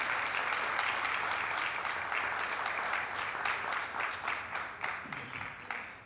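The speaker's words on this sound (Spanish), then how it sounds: "Denle un aplauso al Señor mientras tomo agua" A Spanish-speaking church congregation applauds at a Sunday service, steady full clapping throughout with a faint voice briefly audible near the end.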